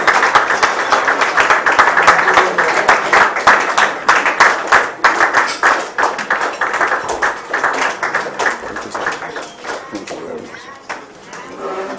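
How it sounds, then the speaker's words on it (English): Audience clapping at an 82nd birthday celebration and book presentation for an emeritus professor, a dense, sustained round of hand claps filling the hall, loud and steady before gradually thinning, with a voice speaking over it. "Let's keep clapping, keep clapping."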